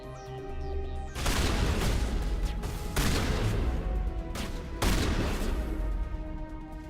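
Sustained bursts of gunfire in the Mass Effect video game, with heavy volleys starting about a second in and flaring again at several points, loud and close over a constant rumbling game backdrop.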